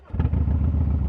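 A Harley-Davidson Road Glide ST with a Milwaukee 8 engine and Sawicki exhaust fires up close, settling into a deep, loud, lumpy rhythmic idle.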